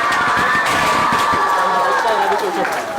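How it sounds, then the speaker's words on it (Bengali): Students cheering and clapping at a school celebration, a loud, continuous crowd of shouting young voices with applause mixed in, close and sustained. "মরিয়ম সিদ্দিকার জন্য একটা জোরদার হাততালি হয়ে যাক।"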